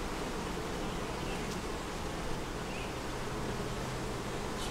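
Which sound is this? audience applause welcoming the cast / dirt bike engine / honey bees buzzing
honey bees buzzing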